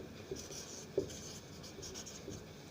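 A pen handwrites an address on paper, with soft, steady scratching strokes close up over a low background hum and one slightly louder tap partway through.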